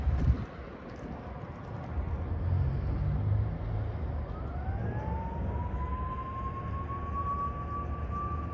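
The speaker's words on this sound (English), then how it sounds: "I hear sirens out in the city." A siren wails across a city street, rising into a long steady tone that carries from a distance over low traffic rumble and outdoor ambience, with no talk.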